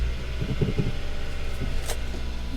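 A stick-shift car at a salvage auction yard starts up, with a brief cranking burst that settles into a steady, low idling rumble nearby.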